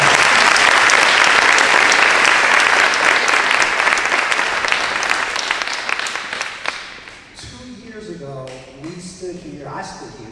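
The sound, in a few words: applause from school ribbon-cutting audience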